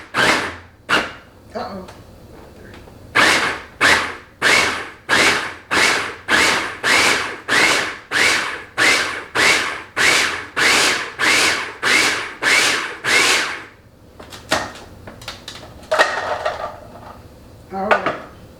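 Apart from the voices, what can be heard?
food processor pulsing crumb mixture with butter and Crisco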